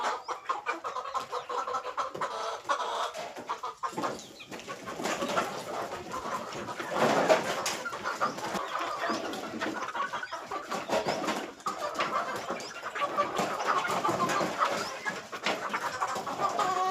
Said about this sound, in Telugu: చూడండి ఎంత మంచిగా తింటున్నాయి అన్నీ.